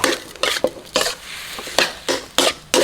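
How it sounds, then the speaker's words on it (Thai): Dry scraping and clattering of a utensil stirring pork in a wok, in repeated bursts with a faint sizzle between strokes, close up and with no talking. "นี่นะครับคั่ว แห้งๆแบบนี้นะครับ"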